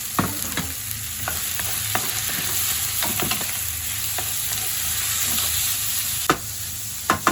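Pork belly and heart browning in a pan on the stove, a steady close sizzle and fry hiss with scattered sharp pops and utensil scrapes from stirring throughout.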